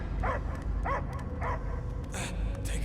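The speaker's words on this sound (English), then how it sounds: "I hear only barking." Dog barks in the Guardians of the Galaxy video game, a string of about five short, sharp barks at a steady pace over a low background rumble.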